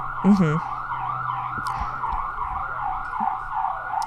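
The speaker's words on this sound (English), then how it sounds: "You're going to hear some ambulances." A wailing ambulance siren rises and falls continuously in a New York City street, moderately distant, over low traffic rumble with a brief sharp noise near the start.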